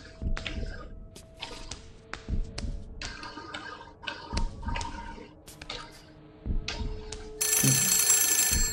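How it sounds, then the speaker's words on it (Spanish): A telephone rings in the horror video game The Suffering, a repeated bell tone over dripping, thudding and squishing game effects, with a louder burst near the end and no talk. "teléfono, tío"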